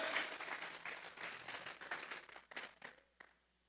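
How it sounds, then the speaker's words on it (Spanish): A church congregation at a Sunday service applauding, quiet, dense clapping that swells briefly and then thins out into a few scattered claps. "Vamos a regalarle ofrenda de palmas al Dios de la gloria."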